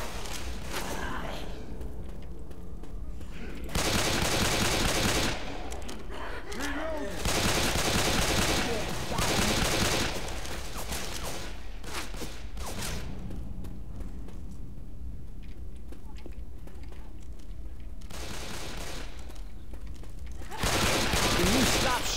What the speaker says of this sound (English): Can you stop shooting me?